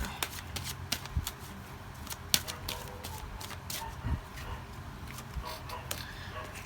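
Romance Angel oracle cards being shuffled, giving soft rapid riffling and flicking taps, fairly faint and close, with a few louder slaps.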